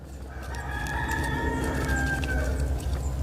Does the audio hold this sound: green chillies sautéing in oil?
no